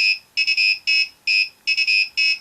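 Piezo-electric buzzer driven by an Arduino beeps out a sequence of shrill musical tones, short and longer notes in a quick uneven rhythm, loud and close with no voices.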